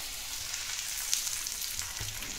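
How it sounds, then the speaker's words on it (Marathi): Thalipeeth flatbread dough made from chakki flour, with small holes poked in it, sizzles on a hot griddle, a steady crackling fry noise with faint clinks, close and continuous, without talk. "आणि आता हे आपण अशा पद्धतीने तव्यावर टाकत आहोत."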